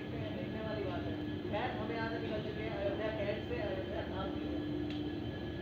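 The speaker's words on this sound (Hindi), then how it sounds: "अभी हमारी गाड़ी का डिपार्चर हो रहा है अयोध्या कैंट से" The Amrit Bharat Express pulls out of Ayodhya Cantt station, a low continuous rumble of wheels and carriages rolling at moderate volume, with a person speaking over it.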